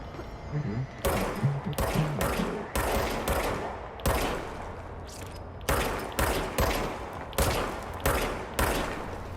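Gunfire in the action video game Control: repeated bursts of rapid automatic shots with short pauses between them, loud and punchy throughout.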